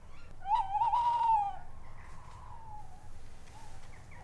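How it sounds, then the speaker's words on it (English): A male tawny owl calls from a tree directly overhead in a derelict coal mine reclaimed by nature, giving a clear, fairly close hooting phrase followed by softer, longer wavering notes over a low background rumble. "So this is a tawny owl, and we can tell it's a male from the call it's making."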